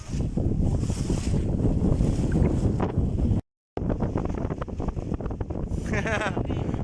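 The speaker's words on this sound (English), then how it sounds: "it's very gusty right now, and we are holding the wing." Gusty wind at a paragliding takeoff site in Chitral buffets the microphone in a loud, continuous roar, cut by a brief dropout, with voices faintly beneath it.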